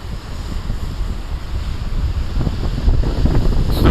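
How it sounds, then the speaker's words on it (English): Big ocean waves at Beavertail Lighthouse roar and rumble steadily, a loud continuous surge of surf mixed with gusting wind buffeting the microphone, and the wash swelling toward the end. "Love the sound of the waves"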